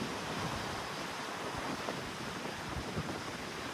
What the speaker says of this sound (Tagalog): Malakas lang yung hangin.